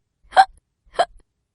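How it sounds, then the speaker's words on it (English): Two distinct hiccups, close and loud, about half a second apart, each a short voiced gulp over silence. "Pete has the hiccups!"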